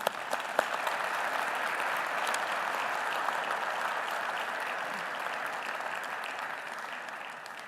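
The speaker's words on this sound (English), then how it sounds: "give them a round of applause to welcome them to the meeting" Steady, dense applause from a large audience at an international MICE summit, welcoming new participants to the meeting; the clapping holds for several seconds at an even level with no break.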